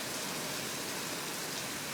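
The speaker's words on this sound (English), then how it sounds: "That's an awful lot of rain" Heavy rain falls steadily and close by, a dense unbroken hiss of drops pattering on surfaces, with no voices over it.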